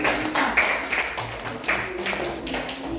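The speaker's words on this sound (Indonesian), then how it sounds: "tepuk tangan untuk kelompok 4" Scattered clapping from a small classroom audience for a group of student presenters, irregular claps at moderate level running through the clip without speech.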